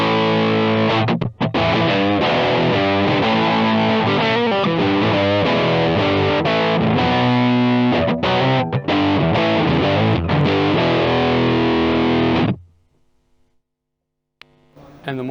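Electric guitar through a Sola Sound 1.5 fuzz pedal roars with thick, heavy distortion, dense chords and riffs played loud and close, then cuts off into near silence with a faint hum.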